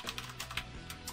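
Quick bursts of computer keyboard typing, a steady run of light clicks and taps close to the mic with no talking.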